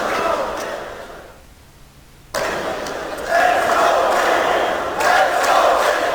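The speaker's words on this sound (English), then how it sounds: "Oh, now the crowd are coming to life." An esports arena crowd at a PGL Major Counter-Strike (CS:GO) match swells into loud cheering and roaring, with a commentator talking over the noise.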